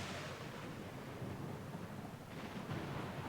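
Steady roaring thunderstorm with heavy rain and wind, a continuous dense rumble in the Pillars of Eternity II: Deadfire game, heard alone at a fairly low level.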